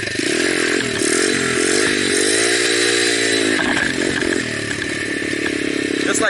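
A motorcycle engine revs hard and steadily with a rising, wavering pitch as the clutch is popped for a wheelie with the rear brake held. It is loud and close throughout, dipping briefly near the end.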